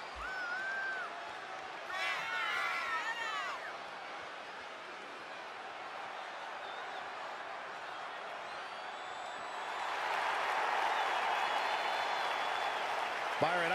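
Arena crowd in the wrestling game WWE 2K20 cheering and applauding steadily throughout, with whistles and whoops early on and the roar swelling louder near the end, under a commentator's voice.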